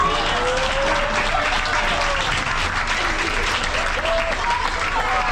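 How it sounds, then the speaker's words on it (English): A cruise ship theater audience gives a full round of applause after a stage show trick, a dense, sustained wall of clapping that stays loud and even, with a voice faintly audible beneath it. "A big round of applause for Kaylee."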